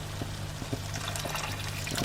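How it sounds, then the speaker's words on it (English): Water is poured into a cooking pan holding a smoky BBQ chicken and black bean sauce, a soft, continuous splashing trickle at moderate volume with no talking. "So what I'm going to do is I'm going to add a bit of water"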